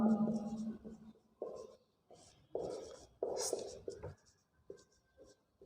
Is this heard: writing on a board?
yes